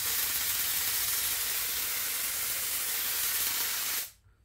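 A spray gun fans upholstery glue onto foam with a steady, loud, broad hiss that continues unbroken for about four seconds, then cuts off abruptly, leaving near silence.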